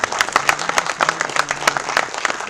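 An audience at a faculty development program claps for a guest, fairly close and loud, with individual sharp hand claps standing out in an uneven patter and a faint voice briefly underneath.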